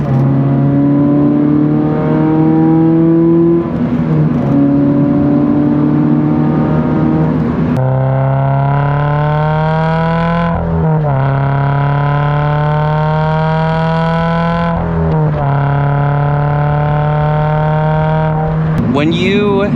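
A car engine revs steadily up toward 5,000 RPM, with loud sustained harmonic drone rising in pitch across several held pulls, separated by brief dips, dominating the whole span with no talk over it.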